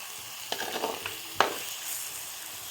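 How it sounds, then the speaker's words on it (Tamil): Heron meat curry is stirred in a pan, with a quiet frying hiss broken by two distinct scraping strokes of the spoon against the pan. "இப்போ கொக்கு கறியை கிண்டி விட்டுட்டு"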